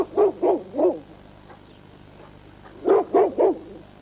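A St. Bernard dog barks close by in two bursts of three deep, evenly spaced barks, with a short quiet gap between them and no talking.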